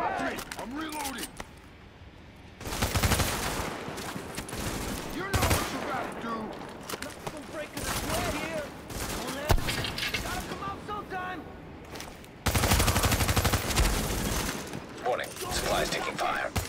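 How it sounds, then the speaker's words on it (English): Video game gunfire comes in repeated bursts of rapid automatic shots, some long and sustained, others short, with mechanical clicks and reload clatter between them while players talk over the action. "I'm taking fire"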